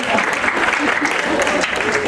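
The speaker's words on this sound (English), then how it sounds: "Applause, please." A crowd claps steadily and fairly loudly, a dense wash of applause lasting a couple of seconds.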